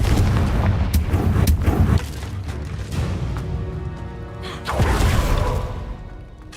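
The Confringo spell blasts in Hogwarts Legacy as a loud, close, booming explosion with crackling debris, and a second heavy burst follows a few seconds later over a rumbling game soundscape.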